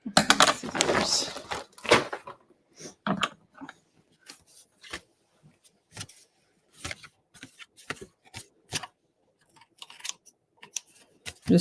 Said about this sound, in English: Just trimming off my bad cutting job from my trimmer.